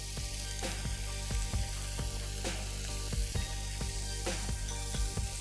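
Whisked egg, lightly salted, poured into a hot pan for fish fried rice, giving a steady close sizzle with repeated scraping and tapping from a utensil throughout.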